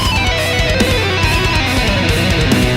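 A rapid, cleanly sequenced electric guitar lick exported from Guitar Pro software rides over a loud full-band backing track with steady drums, continuous and without any talking.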